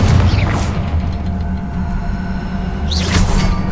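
Confringo blasting spell explosions from Hogwarts Legacy boom twice, one early and one near the end, each with a sweeping whoosh over a constant heavy low rumble.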